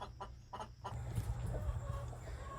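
Backyard hen clucking: a few soft, quick clucks close by, then a busier stretch of low, muffled clucking and rustling, fairly faint with no talking.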